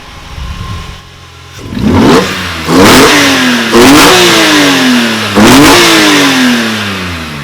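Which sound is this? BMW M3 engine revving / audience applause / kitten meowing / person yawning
BMW M3 engine revving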